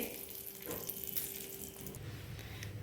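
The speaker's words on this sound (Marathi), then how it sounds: "आता ही फोडणी आपण चटणीवर ओतूया" Hot tempering with curry leaves poured onto a fasting-style chutney, giving a steady close sizzle and crackle that fades after about two seconds. No one speaks.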